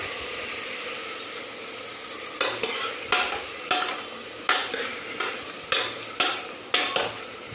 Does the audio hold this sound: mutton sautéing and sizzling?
yes